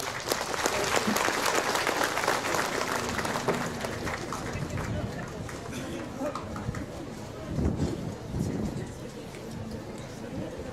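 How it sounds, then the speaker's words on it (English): An audience applauds a students' performance at a live school event, with a dense, sustained wash of clapping that holds steady and fades slightly toward the end, and voices mixed in underneath. "can we just give them one more big round of applause, please?"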